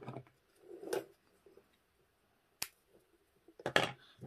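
Scissors snipping string while making a tin can wind chime, a few sharp close cuts with a crisp snap near the middle and a quick double snip toward the end, quiet handling in between and no talking.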